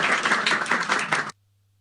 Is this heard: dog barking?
no